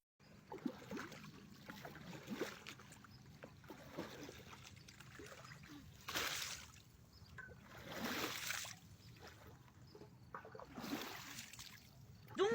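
Water sloshing and splashing in surges as a wave simulator rocks a small autonomous eco boat model, with soft repeated swells, close and fairly faint.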